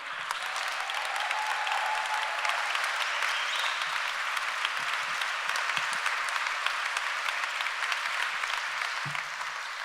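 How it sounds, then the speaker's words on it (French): Sustained applause from a large concert audience after a slam poetry performance, dense and even throughout, heard from a moderate distance with no voices standing out. "Je demande un tonnerre d'applaudissements pour Christelle Nio-Twitzera."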